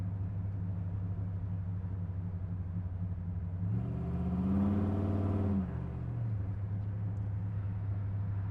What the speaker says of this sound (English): This is a nice 1968 Chevrolet Camaro. Big block car